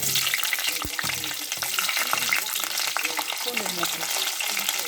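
Garlic frying in hot oil with mustard seeds and fenugreek, a loud, steady crackling sizzle with stirring scrapes and small pops, close up and continuous, no voices.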